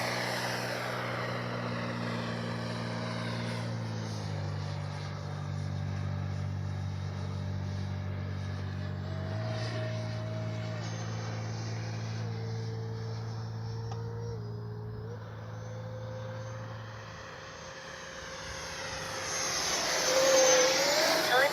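Freewing F-16 70mm EDF RC jet in Arctic Camo V3 flying: a steady ducted-fan whine with shifting pitch tones throughout, easing briefly then swelling louder near the end.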